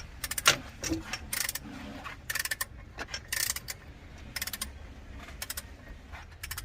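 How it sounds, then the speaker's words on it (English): Torque wrench tightening the crank pulley bolt on a Ram TRX, heard as rapid ratcheting clicks in repeated short bursts, close and crisp, with quiet gaps between strokes. "now we are torquing down the main crank there to 148 pounds."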